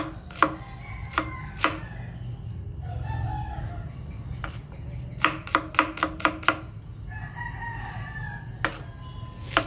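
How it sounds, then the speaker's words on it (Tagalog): Onions are chopped with a knife on a board in a home kitchen, sharp close knocks coming singly and then in a quick burst, while a rooster crows and chickens cluck in the background. "Chop na natin yung sibuyas natin."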